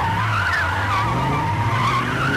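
A car skidding into a spin during a film car chase, loud sustained tire squeal wavering in pitch over a low engine drone, continuous throughout with no talk.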